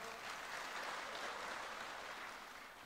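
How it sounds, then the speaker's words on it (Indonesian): An audience claps steadily at the closing of a Golkar party national congress speech, a dense, even patter of applause that stays faint and distant before easing slightly at the end. "Ya, kita aplaus."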